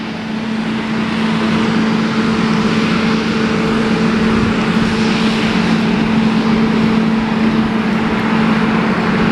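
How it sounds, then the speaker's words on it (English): A tour bus idles beside a WWII submarine museum ship with its air conditioning running, giving a loud, steady mechanical drone with a constant low hum that carries on unbroken throughout, with no talking. "All the racket you can hear is from the tour bus, not the submarine itself."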